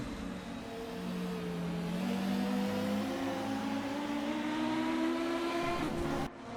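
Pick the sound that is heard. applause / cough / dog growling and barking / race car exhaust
race car exhaust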